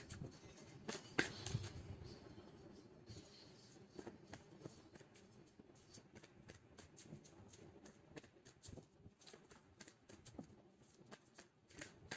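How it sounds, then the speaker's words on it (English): Tarot cards shuffled and pulled from a deck, a soft papery riffling and flicking with light rustles and taps, close and quiet, running steadily throughout with no talking. "So let's pull some cards from universe."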